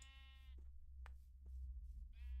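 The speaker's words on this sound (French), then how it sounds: "Des moutons. Ah, j'aime bien les moutons." Sheep in the Minecraft video game bleat twice, with a short wavering cry at the start and another at the end, over a low background rumble.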